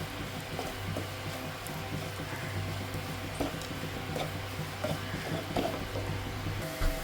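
Spice powders heated and stirred in a pan for a beef curry, giving a steady soft sizzle with faint scraping from the stirring throughout, plus a low continuous hum beneath it.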